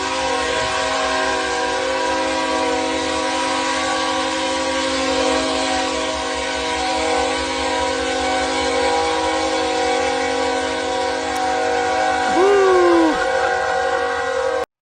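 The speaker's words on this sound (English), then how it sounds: "This man is about to 1v1 a freight train." A freight train rumbles past loudly and steadily, its horn blaring in long sustained tones throughout, with a pitch-bending horn blast near the end.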